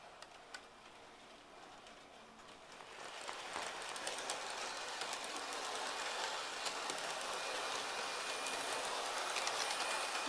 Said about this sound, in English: Now the Eurostar is going to leave the station.